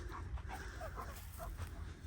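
A dog whimpers and yips in short repeated bursts on a sunny beach walk near Lytham St Annes, Blackpool, close by over steady wind and walking noise.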